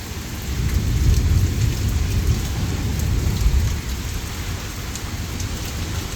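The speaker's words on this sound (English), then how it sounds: "All the thunder's coming from this way, so the storm must be more intense in that direction." Thunder rumbles through a heavy rain and hail storm, a loud, continuous low roar under steady pounding rain, swelling early and easing slightly toward the end, with no voices.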